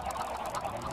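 Chickens in a Minecraft-style one-block game cluck in a quick, continuous flurry of short nasal calls, moderately loud and alone for a brief moment.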